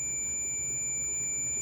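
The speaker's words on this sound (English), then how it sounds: "that beeping was very aggressive" A Tamagotchi virtual pet sounds a thin, high electronic tone that holds steadily and faintly the whole time, alone in a quiet room.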